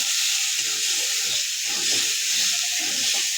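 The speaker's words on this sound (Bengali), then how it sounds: "এটাকে এবার আমি নাড়াচাড়া করবো" A spice mix of ginger, garlic, chili, cumin, salt and turmeric frying in a hot pan, a steady close hiss and sizzle with soft stirring scrapes, no voices.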